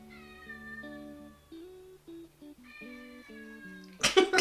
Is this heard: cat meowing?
yes